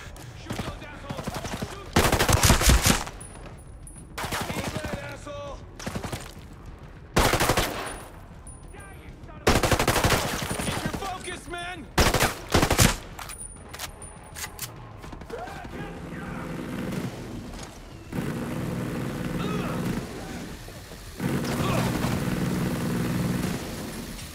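Heavy video game firefight during a night assault on a drone manufacturing plant, with loud sustained bursts of automatic gunfire and overlapping volleys, punctuated by shouting voices and short lulls filled with rumbling battlefield ambience.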